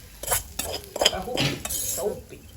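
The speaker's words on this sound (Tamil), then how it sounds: "தாளிலே கவுப்பியோட சேர்ப்போம்." Cowpeas tossed into a hot tempering and stirred in a pan, Jaffna village style, bring several quick metallic scrapes and clinks of a spoon against the pan over a faint sizzle.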